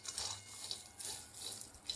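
Tap water runs steadily into a kitchen sink while a tomato and ingredients for a drumstick dal are rinsed, a continuous soft splashing rush with slight surges, fairly close and moderately quiet.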